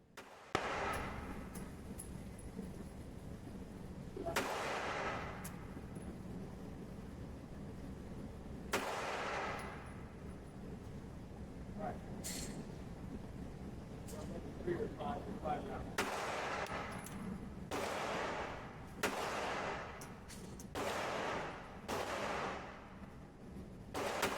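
Sharp gunshots from a Sig P365 pistol, fired singly at uneven intervals of a few seconds, a dozen or so cracks over steady outdoor background noise.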